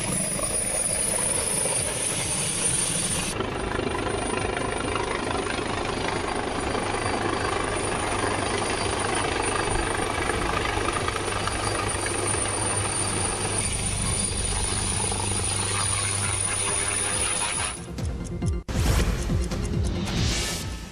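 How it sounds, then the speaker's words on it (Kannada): A helicopter lands at a political rally site, its loud continuous rotor and engine roar holding steady close by for most of the time, then a sudden shift and rustling burst near the end. "ಪ್ಲಾಸ್ಟಿಕ್ ಚೀಲ ತೆರವುಗೊಳಿಸಿದಂತ ಬಳಿಕ ಹೆಲಿಕಾಪ್ಟರ್ ಲ್ಯಾಂಡಿಂಗ್ ಮಾಡಲಾಯಿತು"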